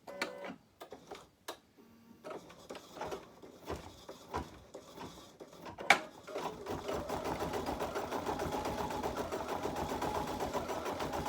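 An embroidery machine starts with scattered clicks and taps, then settles into a fast, steady mechanical stitching rhythm, close and moderately loud, with no talk.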